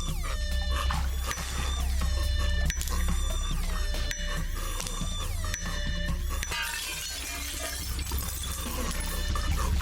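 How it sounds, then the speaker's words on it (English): Glass shatters repeatedly in a science-fiction scene, sharp crashes and tinkling shards recurring across the stretch over a dense, loud mechanical bed with no voices. "I'm gonna break the glass!"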